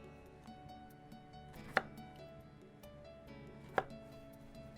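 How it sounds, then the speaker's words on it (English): A knife cuts through zucchini on a board in two sharp, separate chops, about two seconds apart, close and clear against a quiet background. "And we're going to cut it into thirds. And then cut those thirds in half lengthwise."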